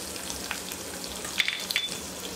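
Crushed garlic cloves drop into hot oil in a kadhai over a low flame, giving a soft, steady sizzle with a few light clinks from the pan.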